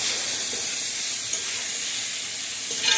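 Italian sausage sauce with cilantro simmering in a pot, giving a steady, even sizzling hiss that holds at the same level from start to finish, with no voices.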